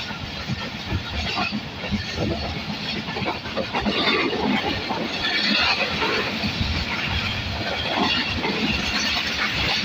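A passenger train on the Karachi to Rohri line rolls along the tracks, a continuous rumbling clatter of wheels over rails heard from inside the carriage, steady and fairly loud throughout.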